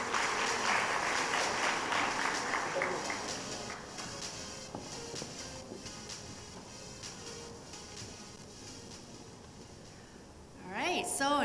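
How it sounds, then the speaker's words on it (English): Applause rises from the audience at the CFA Institute Research Challenge final in Thailand, fills the first few seconds, then fades into quieter room noise and faint voices before a short, louder burst at the end. "So let's give them another big round of applause,"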